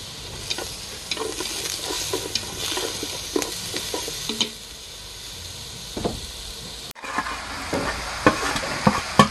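Minced pork filling for banh te being stir-fried in a hot pan, steady sizzling with repeated scraping and stirring strokes, close and fairly quiet with no talking.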